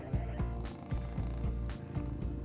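Several cats purr steadily and close by, a low rumbling drone with a soft, regular pulse of breaths. No other sound intrudes.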